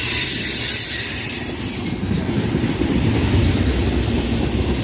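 A CSX mixed freight train hauling tank cars rolls past at close range, a loud, sustained rumble of wheels on rail with a squealing edge throughout.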